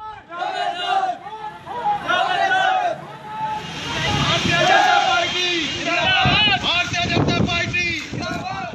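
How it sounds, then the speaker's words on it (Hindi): A large crowd at an election campaign rally in Gorakhpur, India, roars and chants loudly and near, with overlapping shouting voices and wind buffeting the microphone throughout. "ये गोरखपुर में चुनाव प्रचार की भीड़ है"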